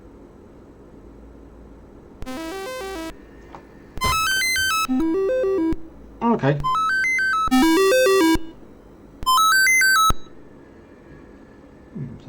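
A Commodore 64 SID sound chip, on a machine undergoing fault repair, plays through a speaker: bursts of bright electronic bleeps and rising and falling pitch sweeps with short gaps between them, and a brief spoken word.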